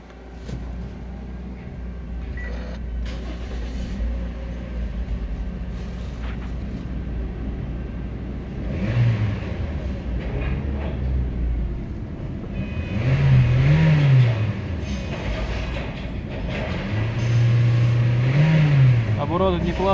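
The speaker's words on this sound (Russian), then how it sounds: "Так, запускаем двигатель." Toyota Corolla Axio NZE 2006 with a 1NZ-FE engine, automatic, 4WD, cranking and running: a continuous mid-pitched engine hum with a few revs swelling up, under a man's speech.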